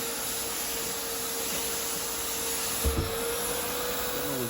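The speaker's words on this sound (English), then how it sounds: "this vacuum's ideal for that" Pond vacuum sucking debris and water from a fish pond, a steady close suction roar with a constant motor hum throughout and a brief gurgling surge near the end.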